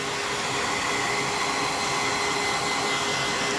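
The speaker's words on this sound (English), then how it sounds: "let me blow dry this real quick just so I can see where I'm at with this" A hair dryer blows steadily to dry a layer of paint on a Darth Vader painting, a loud continuous whooshing roar with no breaks and no talk.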